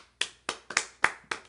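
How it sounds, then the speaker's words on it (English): A handful of sharp hand claps at close range, about six uneven claps in quick succession, quiet and dry, from a small group in a podcast studio. "Studio audience clap."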